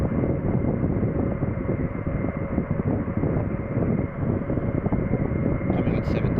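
Turboprop aircraft engine droning steadily in a flight simulator game, a continuous loud broadband rumble throughout with a brief higher sound near the end, while someone may be talking over it.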